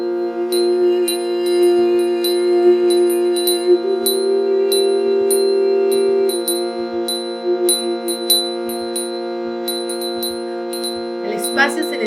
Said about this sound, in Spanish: Vamos entrando en los sonidos de las campanas.